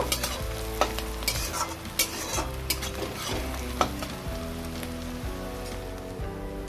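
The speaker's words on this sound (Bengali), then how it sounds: "এবার কুচনো পেঁয়াজ দিয়ে দিলাম। এবার পেঁয়াজটা খুব ভালো করে ভেজে নেব।" Chopped onions fry in oil after a dried red chilli tempering, for Bengali muri ghonto, a steady close sizzle broken by repeated stirring scrapes and spatula knocks against the pan.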